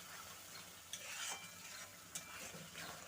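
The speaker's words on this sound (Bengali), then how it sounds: "তো এবারে ভালো করে একটু কষিয়ে নেব।" Mutton being stirred and sautéed in a pan for Bengali mutton kosha, a steady sizzle with soft scraping strokes of the spoon, two sharper scrapes standing out, close and moderately quiet with no talk.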